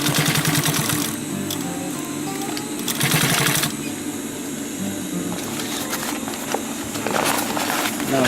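A sewing machine runs close and steady, stitching a sustainment pouch in short rapid bursts over a continuous motor hum, with no talk.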